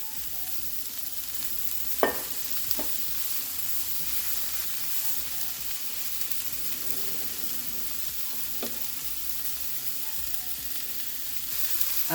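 Vegetable stir fry with pepper sizzling in a pan: a steady broadband frying hiss runs throughout, with a few sharp scrapes and clacks from stirring near the start and again later.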